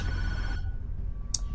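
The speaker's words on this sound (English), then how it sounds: "Don't answer the phone." A telephone rings once with a short, bright electronic trill in the Tattletail video game, sounding briefly and clearly after a stretch of near silence with a low room hum.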